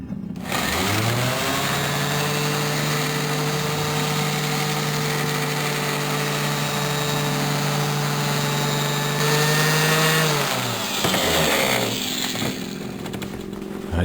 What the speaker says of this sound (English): I tried this cheap random orbital.